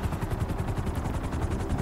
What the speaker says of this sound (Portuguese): Passando um avião ali, mano.